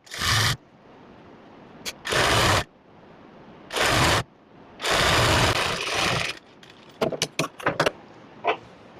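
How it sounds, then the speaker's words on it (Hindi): A sewing machine stitches along a fabric belt in several loud, even bursts separated by pauses, followed by a run of quick, short clicks. "पूरे बेल्ट पर आपको सिलाई लगाकर कंप्लीट करनी है।"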